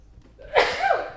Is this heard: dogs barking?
no